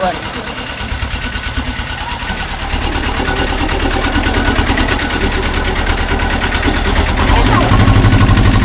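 Boat engine running steadily and loudly throughout a canal trip in Khao Sam Roi Yot National Park, a continuous close rumble that builds slightly toward the end, with faint voices partly buried beneath it.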